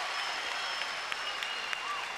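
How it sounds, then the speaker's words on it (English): Basketball crowd at the Stan Sheriff Center in Honolulu applauding in a dense, continuous wash of clapping, steady and fairly loud, with a few sharper claps poking through. "Big hand from the crowd here at the Sheriff Center."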